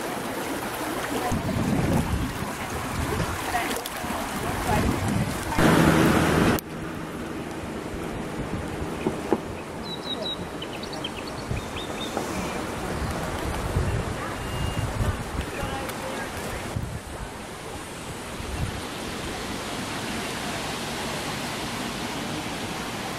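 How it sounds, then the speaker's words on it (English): A broad, constant rush of the flooded Bombala River fills the scene, loud and unbroken, with occasional faint knocks and bursts on top. "the river's still rising at a rapid rate"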